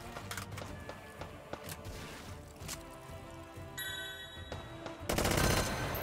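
Gunfire in the H3VR virtual-reality shooting game, scattered sharp shots ending in a rapid automatic burst, fairly quiet and close, with a faint ringing tone in the middle.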